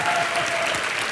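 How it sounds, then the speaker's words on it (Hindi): A studio audience on a comedy show claps in a dense, brief burst of applause, close and fairly loud. "जोरदार तालियां पहले बजाइए जरा।"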